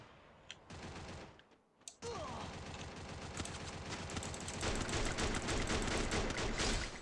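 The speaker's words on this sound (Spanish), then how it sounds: "me está disparando otro, pero no sé dónde está" Rapid enemy gunfire in the battle royale game Free Fire, dense bursts of shots crackling almost continuously and building louder toward the end after a brief lull.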